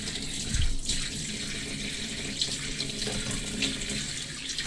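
A kitchen tap runs warm water into a single sink to wash dishes, a steady close hiss of flowing and splashing water with no talking.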